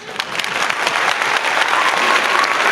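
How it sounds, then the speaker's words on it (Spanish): Canned applause played from a machine on a talk show; loud, close, dense clapping that holds steady and swells slightly across a short burst. "¿Qué te parecen los aplausos que te dan mi público?"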